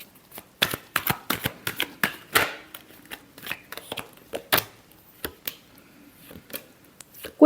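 Tarot cards are shuffled by hand in quick, close, crisp riffles and slaps, irregular bursts of papery flicking with brief pauses between them.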